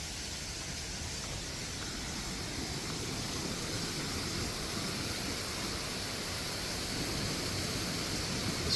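A waterfall inside a cave in Vermont, heard as a steady, even rushing hiss of falling water, continuous and moderately distant without a break.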